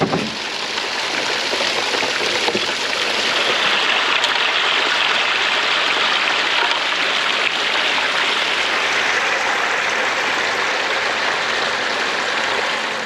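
Water rushes steadily through a gold claim hopper set at a low angle, washing gravel in a continuous, loud, close-up roar with no break and no voices.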